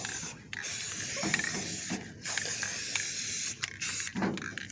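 Short bursts of an aerosol spray can as blue paint goes onto Honda engine parts outdoors, several close hissing sprays separated by brief pauses and rattles.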